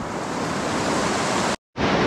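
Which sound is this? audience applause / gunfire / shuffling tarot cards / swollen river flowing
swollen river flowing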